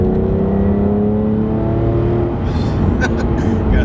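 A car engine pulls in third gear after a downshift, droning loud and close before easing off, with someone talking over it.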